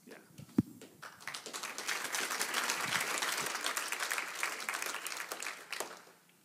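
A church congregation applauds and claps together, a steady dense patter of many hands that swells, holds for several seconds and tapers off, with a few voices mixed in.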